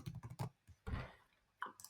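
Keys on a computer keyboard are tapped in short uneven bursts, quiet and close, with small pauses between clusters of clicks.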